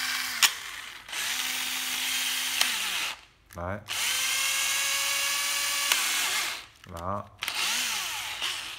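A cordless battery drill from surplus stock, its dirty trigger squeezed repeatedly, whines at high speed in three long runs. Each run stops sharply, with short spoken remarks in the gaps.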